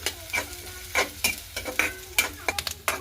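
Coconut chutney ingredients and onion are sautéed in a pan. A quick run of close spatula scrapes and taps hits the pan about every half second over a faint background sizzle.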